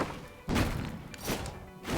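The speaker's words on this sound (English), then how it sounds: "I like to throw a knife." Knife thrown in the video game Rogue Legacy: repeated thuds and whooshing thumps in a game soundtrack, with bursts at a steady pace across the clip.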